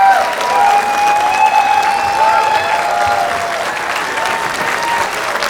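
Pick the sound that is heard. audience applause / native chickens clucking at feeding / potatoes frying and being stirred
audience applause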